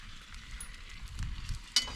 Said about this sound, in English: we got a little sizzle going here now